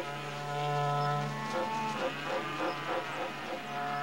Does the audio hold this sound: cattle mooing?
yes